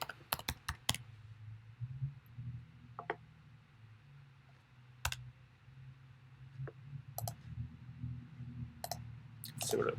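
Bursts of typing on a computer keyboard, sharp close clicks in quick clusters separated by pauses, over a quiet low room hum with no talking.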